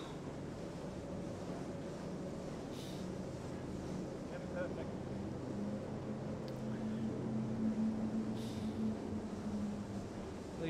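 A steady low rumble of spectator motorboat engines and wind over open water at the Sydney Hobart Yacht Race, with a faint motor drone rising in the middle.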